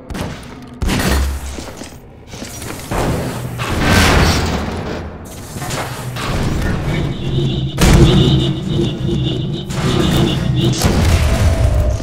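Repeated loud explosions and booming blasts in a Half-Life 2 Deathmatch match, heavy bursts rolling one after another with sharp shattering crashes between them.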